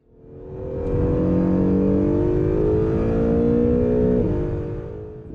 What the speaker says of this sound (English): enjoy some track driving of the wonderful Acura NSX